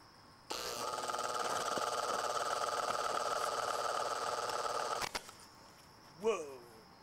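Electrical short in the bad wiring of an antique fan motor: a loud, steady buzzing hum starts abruptly, holds for about four and a half seconds, then cuts off with a sharp crackle, followed by a brief vocal sound.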